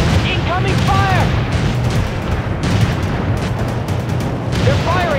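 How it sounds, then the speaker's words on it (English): Rapid bursts of gunfire and booms from the real-time strategy game World in Conflict rattle on through a battle, with shouted voice lines from soldiers breaking in over the steady combat noise. "They're firing at us!"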